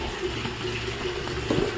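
Water runs steadily from a tap in a home kitchen, a continuous close rushing flow with a slight splash toward the end.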